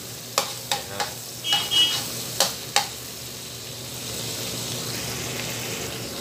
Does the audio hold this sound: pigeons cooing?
no